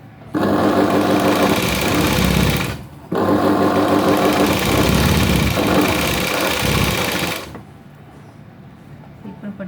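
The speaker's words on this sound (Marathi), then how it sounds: "अशी पाव इंचावर शिलाई मारायची" A sewing machine runs fast and steady stitching a folded blouse seam, stopping briefly partway, then resuming before cutting off, leaving quiet room noise.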